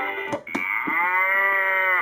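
A long, loud electronic cow moo from a LeapFrog farm animal toy, preceded by a couple of brief clicks, with the moo holding steady to the end.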